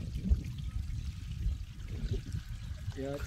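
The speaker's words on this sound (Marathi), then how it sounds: "आता जे आपण बोरचं पाणी मोटर चालू केली ना, हां बोरचं पाणी बाहेर फेकून द्यायचं" Borewell water pumped by a running motor pours out in a continuous splashing flow, close and moderately loud, with a voice talking over it.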